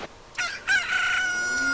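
A cuckoo, the chicken-like fowl of Zelda: Ocarina of Time, gives a loud cock-a-doodle-doo crow. It rises in stepped bursts, then holds a long drawn-out final note, close and clear, with no talking.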